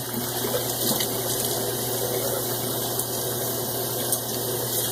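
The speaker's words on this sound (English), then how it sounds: "I'm just going to apply some hot water now" Running tap water flows as a head is wetted before a shave, a steady close gush with a faint constant hum beneath and small splashy shifts, no talking.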